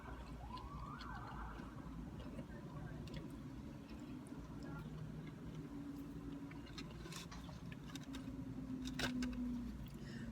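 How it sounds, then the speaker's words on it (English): Ambulance siren heard from inside a parked car, a faint wailing tone in the distance over a low rumbling background, with a voice speaking briefly nearby. "It's an ambulance."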